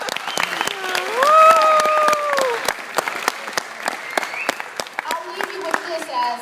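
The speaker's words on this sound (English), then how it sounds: "You can clap that up." A high school youth audience at a motivational talk claps in sharp, scattered strikes, with voices and cheers rising over the clapping before it thins out.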